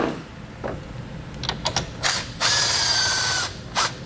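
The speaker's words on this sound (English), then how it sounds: "we'll take a 13mm socket now, and we're gonna remove the large nut from our stud there" Ratchet with a 13mm socket removing a large nut from a stud on a 2021 Chevrolet battery disconnect install, giving several quick clicking ratchet bursts followed by a longer whirring spin, close and loud.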